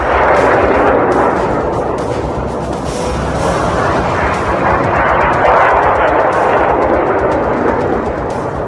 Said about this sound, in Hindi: मिसाइल अटैक लॉन्च किया गया